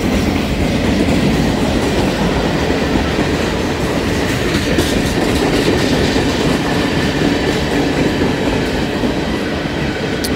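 A long B&O freight train of boxcars, including 86-foot cars, rolls steadily past up close, with a loud continuous rumble of wheels and clickety-clack over rail joints throughout.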